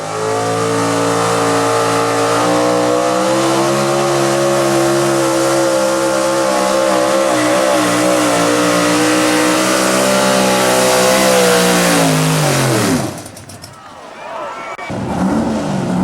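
A Chevrolet truck engine roars at a steady high rev in a truck pulling contest, loud and sustained for about thirteen seconds before it cuts off and the crowd and an announcer's voice take over.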